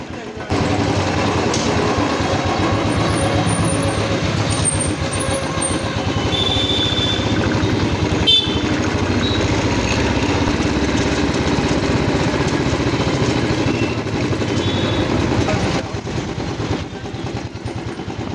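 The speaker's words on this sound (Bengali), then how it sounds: "বাইকটা নিয়ে বেরোনো যাক" A motorcycle engine drones steadily and fairly loudly while the bike is ridden out near Siliguri, with voices talking intermittently over it.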